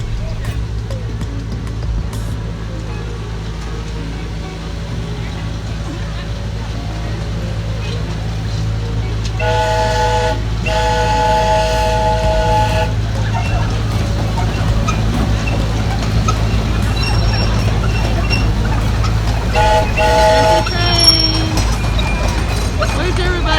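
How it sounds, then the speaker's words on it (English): A train passes near a pumpkin patch farm, with a steady low rumble running throughout and a few sustained horn blasts sounding partway through, while voices are heard faintly in the background. "we have to wait for the trains coming."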